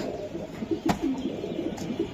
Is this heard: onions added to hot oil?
no